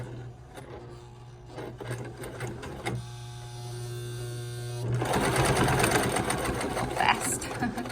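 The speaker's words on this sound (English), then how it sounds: "I'm just letting the machine move the fabric through and using this hand to just make sure that it's straight" A sewing machine stitches fabric for a cloth napkin, its motor running in a steady rapid whir that grows louder and busier in the second half, with a person talking over it.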